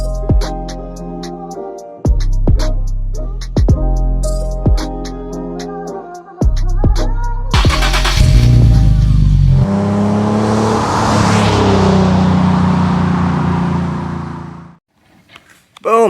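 A 2008 Infiniti FX35 is heard close up with a loud, rhythmic series of revs and gear changes, then a sustained roar that fades near the end.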